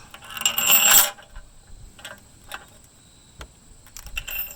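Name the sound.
metal washers being put on a bolt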